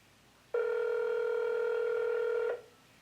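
A single steady tone sounds on a Samsung Galaxy S4 for about two seconds, starting and stopping cleanly against quiet background noise.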